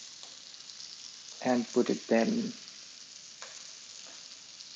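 Steady sizzle of onions frying in a pan while an Arctic char fish is laid on top. Someone speaks briefly over the faint, constant frying.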